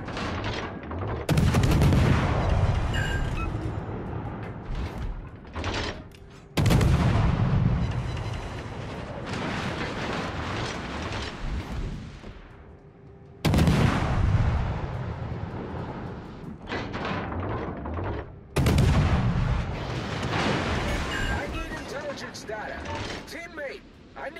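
Naval artillery fire and ship explosions from the World of Warships: Legends game, Khabarovsk destroyer, come as several heavy booming blasts with rumbling tails, each followed by quieter battle noise, mixed under speech.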